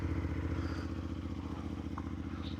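CFMoto Ibex 450 motorcycle engine running just after starting, a steady low throbbing idle close by with faint mechanical clatter and no voices.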